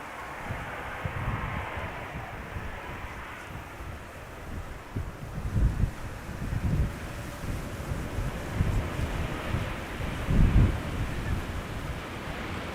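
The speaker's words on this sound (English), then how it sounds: "Wind's a bit gusty." Gusty wind rushes past an outdoor microphone at Amsterdam Schiphol Airport, a broad rumbling roar that swells and eases, with stronger buffeting gusts toward the middle and near the end.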